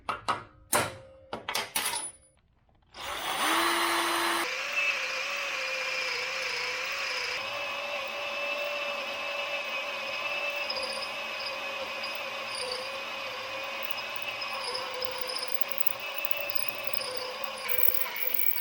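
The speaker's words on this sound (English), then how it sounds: "Let's drill this hole. We'll put the 3/8 drill bit in the drill." After a few clanks, a drill motor whines steadily with a grinding, ratcheting edge as a 3/8-inch bit bores continuously through steel.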